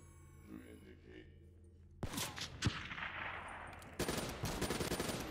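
Gunfire in the video game Call of Duty Black Ops 3 breaks out after a quiet opening as loud bursts of rapid automatic shots, with a second burst starting partway through.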